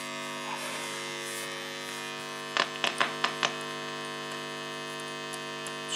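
A Soviet Rekord-53M valve radiogram gives off a steady mains hum with layered buzzing overtones, broken by a few brief clicks from handling midway, with no talk.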